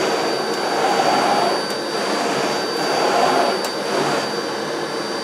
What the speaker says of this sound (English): I'll turn it up to the carpet setting